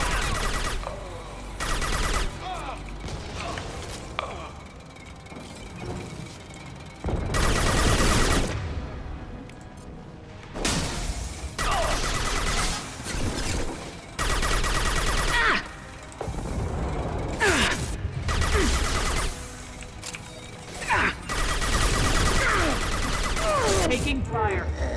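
Gunfire in the Mass Effect video game: sustained bursts of rapid automatic fire and repeated shots, loud and close, with short pauses between volleys and voices talking over the combat.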